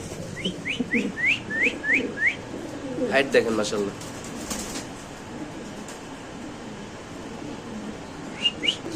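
Pigeons call in a quick series of rising whistled notes at the start, then one more near the end, close by over background chatter and someone speaking.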